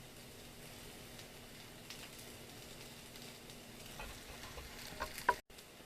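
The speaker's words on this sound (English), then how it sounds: "you can see now that our onions are nice and sauteed. They're very caramelized and yummy." Onions sautéing and caramelizing in a pan give a soft, steady sizzle with light ticking crackles. The sound stays fairly quiet and close and ends with a brief clatter before cutting out.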